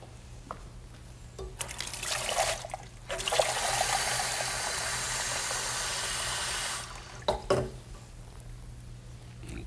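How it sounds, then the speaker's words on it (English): Water from a tap runs steadily into a glass for a few seconds in a quiet room, starting and stopping with brief handling noises around it. "You fill the glass with water now."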